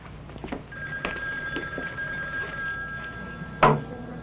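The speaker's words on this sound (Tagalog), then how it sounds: "Sagutin mo yung telepono." A single telephone ring sounds over a quiet room, a long steady electronic tone, followed by a sharp louder burst near the end.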